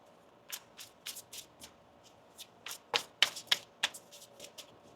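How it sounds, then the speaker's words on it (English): Tarot cards being shuffled by hand, a series of crisp riffling bursts, sparse at first and then quicker and sharper, close and fairly quiet against a hushed room with no talk. "One more shuffle."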